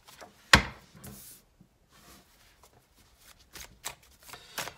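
A Morgan Greer Tarot deck being shuffled: one sharp riffle burst near the start, then softer scattered card rustles and taps through the rest, close and fairly quiet.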